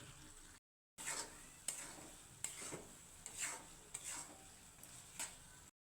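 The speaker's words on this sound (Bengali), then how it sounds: "আমি এটাকে একটু নেড়ে চেড়ে নিচ্ছি।" A spoon stirs pre-fried lentils in a cooking pot for muri ghonto. Repeated scraping strokes come every half second or so over a faint, steady sizzle, close by and quiet, with no talking.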